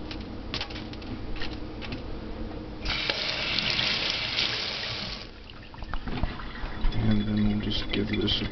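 A filter part from a hang-on-back filter on a nano lagoon aquarium rinsed under a running kitchen tap, water splashing steadily with louder gushing midway while a person speaks over it.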